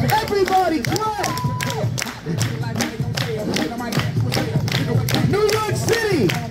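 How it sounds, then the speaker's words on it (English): Audience at a Central Park acrobat street show in New York City clapping in bursts around a performer's loud voice, with scattered cheers from the crowd. "Everybody clap."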